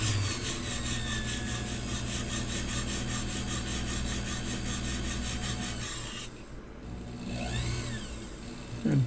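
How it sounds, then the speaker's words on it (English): A diamond plate rasps steadily against a small steel balance staff pivot, a close, continuous filing scrape for about six seconds, then a pause and a few lighter strokes. "I'm going to take a diamond plate and flatten it out."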